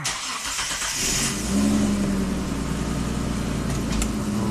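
A Mitsubishi Montero engine cranks and catches, then settles into a loud, steady idle close by, with a brief rise in revs as it fires.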